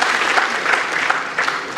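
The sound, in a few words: applause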